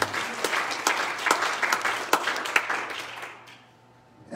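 A church congregation claps hands during a sermon, with sharp, uneven individual claps over a murmuring background that gradually thins and fades toward the end.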